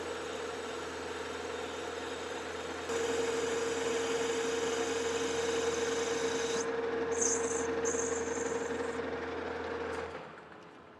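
A metal lathe hums steadily while turning custom bronze hardware on a fine, fifteen-thousandths finishing pass. A faint high whine from the cut holds throughout, the tone shifts partway through, and the machine spins down near the end.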